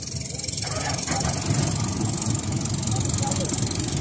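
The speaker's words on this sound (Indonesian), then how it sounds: "mesin kapal sudah mulai jalan, sudah mulai hidup" A boat engine at a fishing platform starts and settles into a steady, continuous rumble that runs loud and close for the whole stretch, with voices talking over it.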